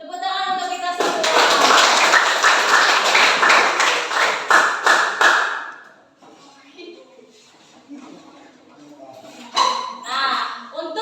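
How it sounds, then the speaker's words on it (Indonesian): Classroom applause: a loud burst of many hands clapping together for about five seconds, then fading into murmuring students and a teacher speaking. "Tepuk tangan untuk kita semua."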